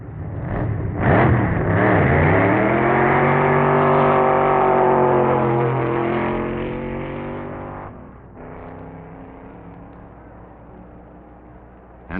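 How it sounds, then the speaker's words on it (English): A hot modified roadster at Indianapolis Raceway Park drag racing, its engine revving loud and rising in pitch as it accelerates, then fading and dropping off after about eight seconds. "Jess Van de Vander in his hot modified roadster"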